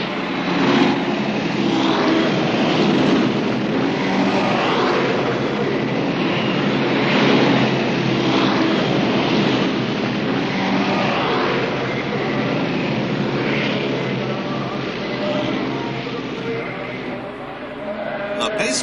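Indy 500 race cars in a field of three-car rows, eleven rows deep, are brought up to starting speed behind the pace car, making a steady, loud, continuous engine roar with a broad rush that swells and fades slightly throughout.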